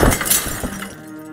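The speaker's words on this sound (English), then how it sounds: "if they want to fly into stained glass windows" Glass shatters loudly as a bird crashes into a stained glass window in the Deponia Doomsday game, a bright burst of breaking shards that rings out and then thins into a faint tinkling tail.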